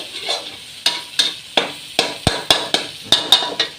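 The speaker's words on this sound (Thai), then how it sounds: "ผัดกุ้งจอมกับไข่ให้เข้ากัน" Fermented shrimp and egg stir-fried together in a pan, with a steady run of sharp spatula scrapes and clacks about every third of a second over a soft sizzle, close and fairly loud, no voices.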